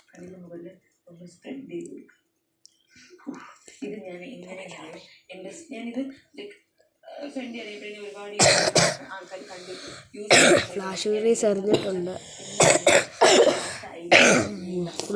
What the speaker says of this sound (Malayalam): റെക്കോർഡ് ചെയ്യുമ്പോഴാണ് ഇങ്ങനെ കിടന്ന് ചുമക്കുന്നത്.